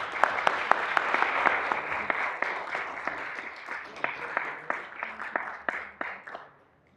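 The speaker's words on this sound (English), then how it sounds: "Another round of applause for the service of Commissioner Cole." Applause from a small audience at a board meeting: a soft wash of clapping with several sharp nearby claps standing out, gradually thinning and stopping near the end.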